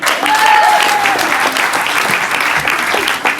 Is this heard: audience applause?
yes